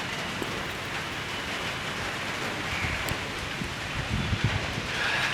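Steady rain falling outdoors, a soft continuous hiss with scattered drops pattering on surfaces, fairly faint and with no voices.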